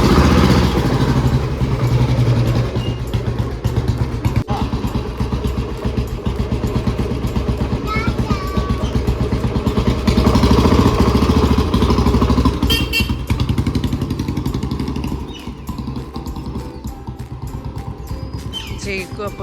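A motorcycle engine runs steadily close by, a continuous mid-pitched drone with a brief bird chirp partway through.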